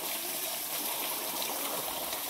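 Running water with a soft, steady trickling rush, faint and continuous with no other sounds.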